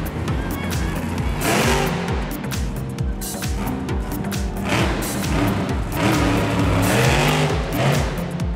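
A Monster Jam monster truck engine revs in an arena, with loud repeated rising and falling throttle sweeps and rumbling exhaust heard continuously, with crowd and arena noise behind it.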